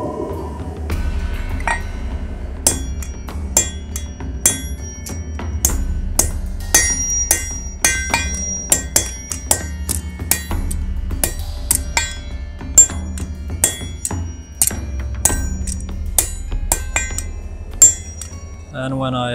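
Blacksmith hammering a heated bar to upset the end for a candle-holder socket: a long series of sharp ringing metallic strikes on steel, irregularly spaced and close, some blows bouncing on the anvil, with a low background hum.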